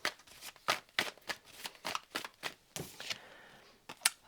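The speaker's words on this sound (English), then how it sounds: "Let's have a little bit of a shuffle here." A tarot deck is shuffled by hand up close, with a quick run of crisp riffles and slaps in an irregular rhythm and no talking.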